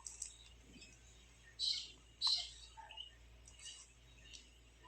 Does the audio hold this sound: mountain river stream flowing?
no